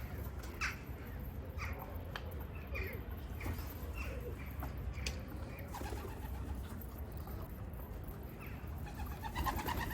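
Pigeons, some escaped and flying, cooing and calling faintly at a distance over steady low outdoor rumble, with scattered short calls and soft background noise throughout.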